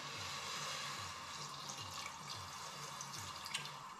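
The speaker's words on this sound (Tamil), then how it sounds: "இப்போ வந்து இந்த சூப்புக்கு தேவையான தண்ணி ஆட் பண்ண போகிறேன்" Water is poured into a cooking pot for a dal and vegetable soup, a faint, steady trickle with small drip-like splashes heard close and alone.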